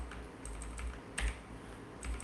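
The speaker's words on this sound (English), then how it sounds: "I should tell you what I'm typing." Keys clack on a computer keyboard while text is edited in the vi editor, a quick irregular run of soft clicks with a couple of louder strokes, close and alone with no voices.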